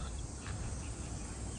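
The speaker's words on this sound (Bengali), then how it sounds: "এই জঙ্গলে এই ঝিঝি পোকার ডাকটা অসাধারণ লাগে" Steady insect chirring of crickets fills the Jaldapara jungle in the Dooars, a dense continuous buzz held at an even level throughout with no voices.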